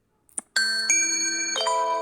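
A ringtone preview plays in a phone ringtone app: a soft tap, then bright chiming electronic tones that ring and shift pitch, close and clear with no talking.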